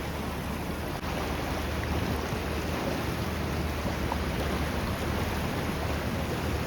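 Floodwater from the Ganges pours over the ghats at Haridwar during heavy monsoon rain. The rushing, churning roar is loud and steady, with a low rumble underneath and no break. No one speaks.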